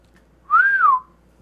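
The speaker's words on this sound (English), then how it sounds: "I'm just going to whistle into it." A person whistles a single short, clear note into a microphone, gliding up and then back down in pitch, close and alone over a faint background hum.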